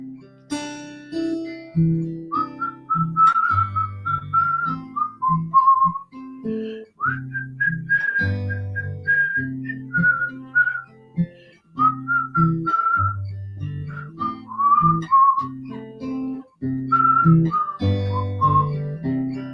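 A person whistles a slow melody over gentle instrumental accompaniment, the tune rising and falling in clear phrases.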